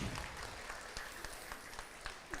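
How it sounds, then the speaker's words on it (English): A round of applause for kids after a market hog show at the State Fair of Virginia, sustained crowd clapping with a few sharper individual claps standing out, fairly quiet and distant. "let's give all your kids a nice round of applause today for a really nice hog show"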